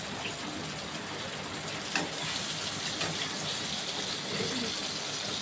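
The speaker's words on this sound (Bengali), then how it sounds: "আর বৃষ্টি হচ্ছে খুব জোরে" Heavy rain pours down in a steady, even roar that stays constant throughout, with a faint knock partway through.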